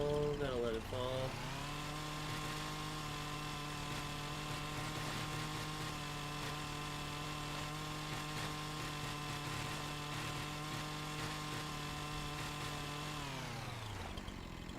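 A modded chainsaw in Farming Simulator 25 cuts down a tree in a swamp, revving up at the start and then holding a loud, steady buzzing drone before winding down at the end, with someone talking over it.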